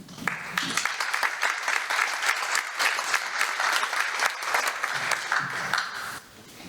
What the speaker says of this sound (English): we need to give them a round of applause for the great work they're doing